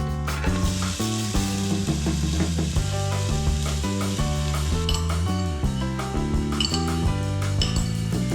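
Onions hit hot oil in a pan and hiss steadily. The sizzle sits beneath loud, rhythmic background music that runs throughout.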